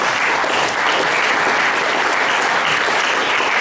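Loud crowd applause welcomes a pastor at a church gathering, with a thick, continuous burst of clapping from many people that stays strong throughout.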